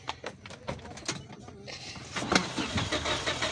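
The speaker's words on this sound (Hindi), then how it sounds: "ये भी गाड़ी ऑन हो चुकी है।" A Toyota van engine cranks and catches, then settles into a steady idle. Earlier there are scattered clicks and door or cabin handling sounds, fairly close, with faint voices in the background.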